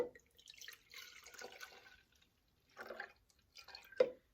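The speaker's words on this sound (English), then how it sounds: "unscrew the jar here, and there is a liquid inside. I'm going to pour that into here" Liquid left from churning butter in a jar, poured out in a home kitchen: quiet, irregular trickling and splashing in a few short bursts, ending with a single sharper drip or clink.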